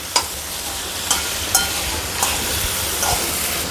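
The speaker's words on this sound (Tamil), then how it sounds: "இந்த கடைச்சக்கையை போட்டுடுவோம். இதையும் போட்டு நல்லா மிக்ஸ் பண்ணிக்கலாம்." Breadfruit pieces sizzling and hissing in a hot pan as they are mixed and stir-fried, with a steady frying crackle broken by several sharp spoon knocks against the pan, close up and with no talk.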